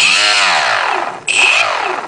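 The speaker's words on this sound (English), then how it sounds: "both of the motors start together and appear to have the same RPM" Two brushless motors driven from a single 35-amp ESC on a small 3-cell LiPo spin up together with a loud rising whine, then wind down, with a second sharp rev burst midway, close and alone.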